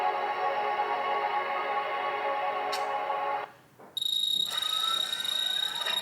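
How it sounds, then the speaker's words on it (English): Electronic beeping and buzzing tones from the video game Danganronpa: Trigger Happy Havoc, a steady harmonic alarm-like drone that cuts out briefly, then resumes as a brighter, higher pulsing beep, loud and without talk. "It made a lot of beeping sounds and I was scared."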